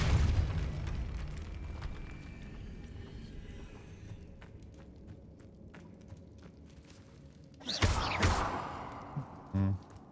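A Depulso force spell is cast in Hogwarts Legacy, a sharp bursting whoosh near the end that stands out above steady game ambience and faint background activity, followed by a short second pop.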